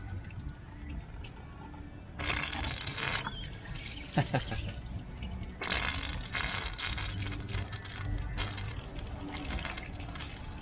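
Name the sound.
water draining from a steam port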